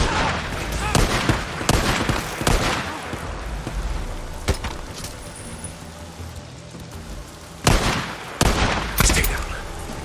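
Gunfire in the Days Gone zombie video game, scattered loud shots and bursts with chaotic rumbling between them, mixed with character voices talking.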